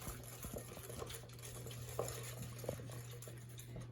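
Wet cookie ingredients are whisked in a bowl, a quiet run of light, rapid scraping and tapping against the bowl over a faint steady hum.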